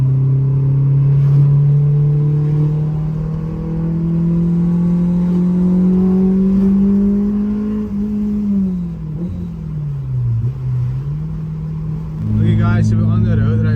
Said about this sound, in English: I know this car drones a lot